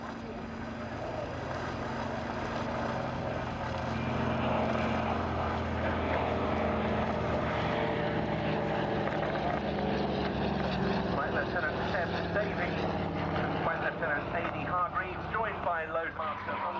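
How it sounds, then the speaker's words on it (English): Douglas Dakota 3 of the Battle of Britain Memorial Flight flying past, a broad propeller-engine drone that swells and shifts pitch as it passes, with someone talking over it. "This is the final pass though by the Dakota 3 of the Battle of Britain Memorial Flight"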